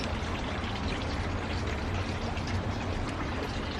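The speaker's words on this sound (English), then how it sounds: "then we can give them a mist." Rubber plants are sprayed with mist, a steady, close hissing spray that runs without a break.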